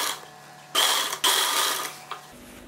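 A sewing machine stitches a chudithar top in two short, loud mechanical runs of whirring and clattering, separated by a brief pause, with quiet room hum before and after.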